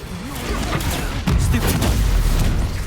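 Booming spell blasts from the Confringo fire curse in Hogwarts Legacy, loud, dense low rumbles with a sharper impact midway, running continuously under combat noise.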